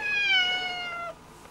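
A cat gives one drawn-out, clear meow close by that slides downward in pitch and fades out, followed by quiet room tone.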